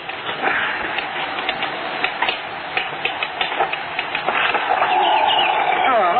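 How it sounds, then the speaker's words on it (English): A bird tries to get in at a rattling window, flapping its wings against it. Quick ticking rattles repeat in irregular bursts, with voices nearby. "It's rattling. I've already seen it. It's some bird trying to get in."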